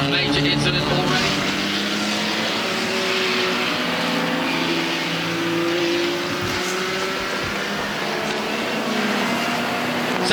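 Vintage race cars, including Honda S2000s, racing at Mid-Ohio: a dense, continuous roar of several engines revving and passing at once, loud and steady, with a commentator's voice faintly under it.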